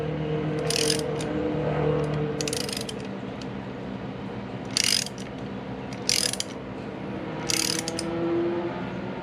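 Ratchet clicking as oil drain bolts are snugged down on a Honda Monkey motorcycle, several short bursts of rapid metallic clicks close up, spaced apart over a quiet workshop hum.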